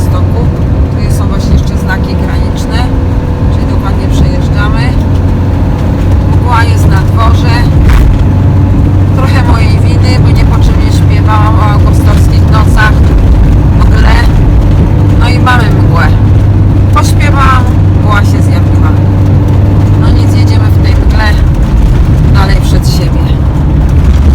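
A camper van drives along a long straight road just after crossing into Poland, following a truck: a loud, constant low engine and road rumble throughout, with people talking over it.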